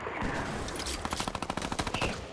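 Rapid automatic gunfire from a gun in Fortnite, a steady burst of evenly spaced shots that speeds into a dense rattle, heard alone without talk.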